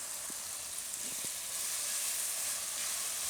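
Ground soya bhurji sizzles in a hot pan, a steady close frying hiss with a few soft clicks of stirring early on, no voices over it.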